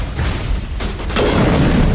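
A singularity biotic power in Mass Effect goes off against a robotic enemy, a loud deep rumbling blast that swells and sustains to the end.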